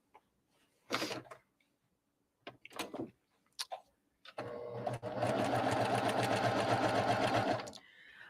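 A sewing machine stitches quilt pieces in one steady, buzzing run of about three seconds, close and loud, after a few scattered handling knocks and rustles of fabric.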